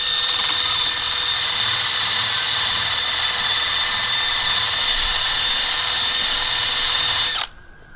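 Brass wire brush spinning on a power drill against rusty farm equipment, a loud, steady high-pitched whirring grind held for about seven seconds before stopping abruptly.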